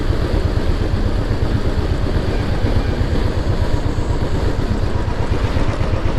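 A Hero XPulse motorcycle idles close by while being parked, its engine a steady, loud, even rumble with no pauses and no talk over it.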